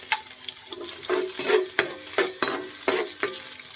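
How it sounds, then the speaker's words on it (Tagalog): Ginger, onion and garlic sautéing in a little oil in a wok, a steady close sizzle broken by repeated sharp scrapes and stirs of the spatula at a brisk, uneven rhythm, with no voices. "So atin igisa yung luya, sibuyas, bawang."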